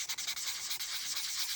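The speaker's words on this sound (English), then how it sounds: "It's cutting the surface of the crystals to remove all the scratches" Polishing compound worked over an original 1972 Seiko Hardlex watch crystal to cut out scratches, a soft, steady close-up rubbing hiss with quick repeated strokes, quiet and alone.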